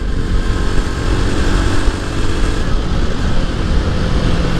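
A Jawa 42 Bobber motorcycle cruises in 5th gear at 90, with a dense, steady engine drone mixed with heavy wind rush and road noise; loud, close and unbroken, with no talking.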